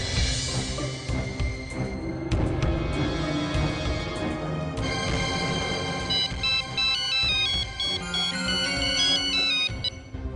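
A mobile phone ringtone rings in a Hindi sitcom scene, a bright repeating electronic melody playing continuously and fairly loud with no talk over it.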